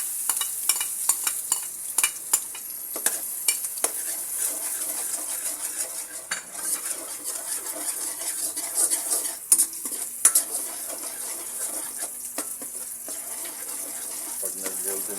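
Garlic fries in cooking oil while a utensil stirs and scrapes the pan, a continuous close sizzle broken by clinks and scraping strokes, with a voice speaking faintly now and then.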